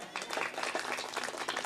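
A church congregation applauds for a visiting doctor from Mumbai, giving a dense, steady patter of many hands clapping close by. The clapping carries on without a break, with faint voices mixed in.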